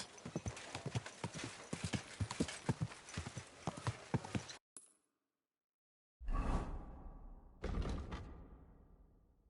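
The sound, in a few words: horse hooves clip-clopping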